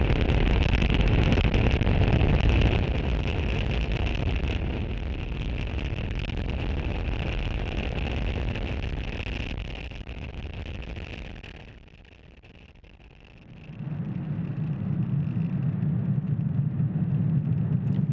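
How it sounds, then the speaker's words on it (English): Deep, continuous rocket rumble from a SpaceX Falcon 9 lifting off from Space Launch Complex 40 at Cape Canaveral, Florida, on a Starlink mission, loud and steady with wind-like roar, dipping briefly before a low rumble swells back. "Falcon 9 has successfully lifted off from Space Launch Complex 40 from Cape Canaveral, Florida"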